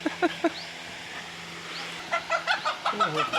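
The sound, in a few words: Aseel rooster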